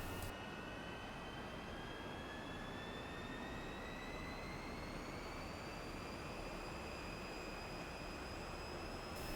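A MiG-15bis jet engine runs steadily at 7,500 RPM during taxi in the DCS flight game, a loud continuous roar with rising high whines that climb slowly over the whole stretch, with no talk.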